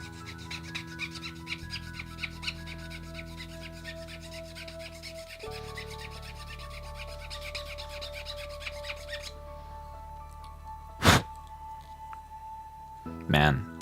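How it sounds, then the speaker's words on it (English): An older HG Jagd Doga plastic model kit is filed to clean up its nub marks: quick, repeated rasping strokes sound close up over steady tonal background music, with a couple of louder scrapes near the end. "Man, it's hard to clean the nub marks on this."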